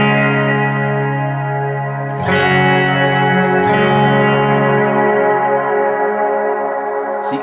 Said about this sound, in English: you can crank the decay on this reverb machine to get some really, really big sounds.